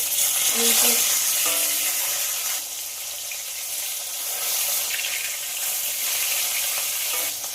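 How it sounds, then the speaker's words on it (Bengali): Pieces of snakehead (shol) fish fry in hot oil with a continuous, moderately loud sizzle, broken by brief scraping and clinking sounds and a faint trickle of water in the background. "এটা খুব ভালোভাবে মাছগুলো ভেজে নেব।"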